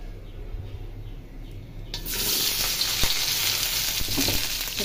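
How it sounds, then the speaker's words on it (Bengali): Chopped onion dropped into hot pure mustard oil while cooking a rooster curry, bursting into a loud, steady sizzle partway through after quieter kitchen background. "তো তেলটা গরম হয়ে গেছে। যে এখন পেঁয়াজটা আমি দিয়ে দেবো"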